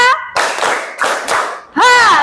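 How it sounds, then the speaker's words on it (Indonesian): A class of students claps together in a counted rhythm, several sharp group bursts between shouted, singsong voices, ending in a loud sustained call. "tepuk tangan untuk kalian semua"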